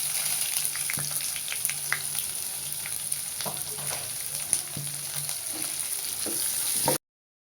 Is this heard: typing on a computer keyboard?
no